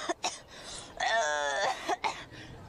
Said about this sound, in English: I've got whooping cough.